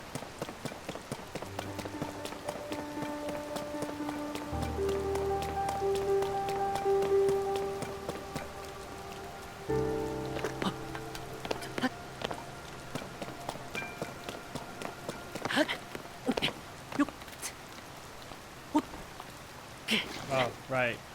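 Constant patter of rain falling in the Zelda Tears of the Kingdom game world, steady and soft, under game music tones and scattered footsteps or clip-clop sounds.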